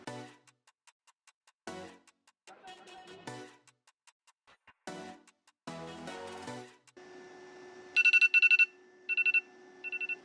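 A phone timer alarm, set by voice for seven minutes while an egg boils, goes off with loud repeated bursts of bright electronic beeps near the end, after a steady tone. Earlier stretches hold separate spoken phrases.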